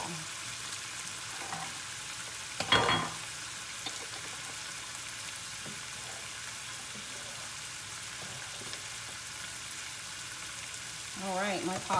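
A wine sauce simmers in a pan while the alcohol cooks off, giving a steady, soft sizzling hiss throughout with a brief utensil clatter early on and another stir near the end.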